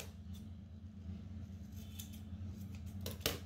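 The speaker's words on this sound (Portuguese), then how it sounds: "vamos cortar" Scissors cut fabric for a handmade bag in a few quiet snips. A louder crisp cut comes near the end, over a low background hum, with no talking.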